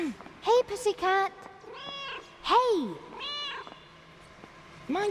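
A cat meows several times in the video game Another Sight, bright rising-and-falling cries spaced through the stretch, with a voice talking between them.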